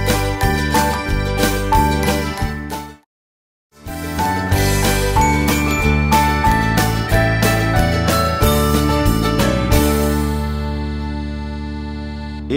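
A song plays loud and clear, bright tinkling piano-like notes over a full band, with a brief complete dropout near the start before the music resumes and then fades gently.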